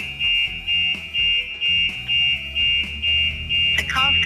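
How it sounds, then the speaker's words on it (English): An advanced car alarm system going off after being triggered by its shock, tilt or motion sensors, giving a loud, steady electronic siren in regular pulsed bursts of about half a second with a rising squeal near the end. "he's demonstrating how the alarm is activated"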